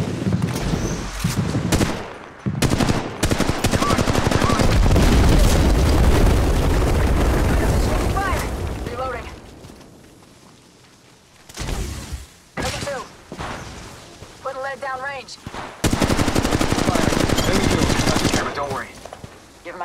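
Dense automatic gunfire from the mobile video game Apex Legends Mobile rattles loud and near in long bursts, broken by a quieter stretch, then a final heavy volley, with voice lines heard in between.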